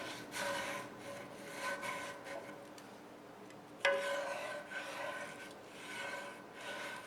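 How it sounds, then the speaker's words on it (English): A serrated scraper rasps repeatedly against a cast iron skillet while clearing stuck-on residue, giving a steady run of rough scraping strokes up close, with one sharper scrape partway through and no talking. "This scraper has some serrated edges, and those are really good for going around the edges of your pan."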